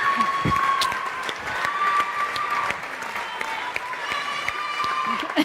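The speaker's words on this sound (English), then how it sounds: "Love the cheer from down here." Live crowd at the EA Sports FC 24 reveal livestream event, applauding and cheering steadily throughout as a former Women's Champions League winner takes the stage; a dense, sustained wash of clapping with occasional whoops.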